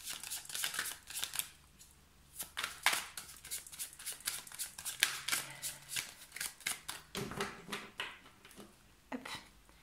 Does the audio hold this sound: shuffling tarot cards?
yes